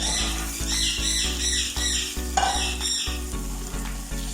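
Lemons are stirred into a homemade pickle, with a steady loud sizzle under rhythmic scraping strokes of a spoon against the pot and a few squeaky clinks, no voices.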